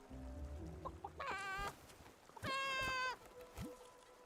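A giant Barasant creature in a video game gives two loud, stretched, tonal clucking calls with a bleating, rooster-like quality, plus a few shorter chirps and a rising squeak, all close and without talk.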